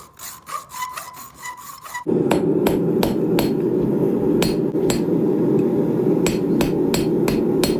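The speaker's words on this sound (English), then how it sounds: "I'm gonna forge this the kind of shape I want" A hammer strikes a steel rasp being forged into a Bowie knife, ringing blows at an irregular pace, first over quiet and then over a loud steady roar from about two seconds on.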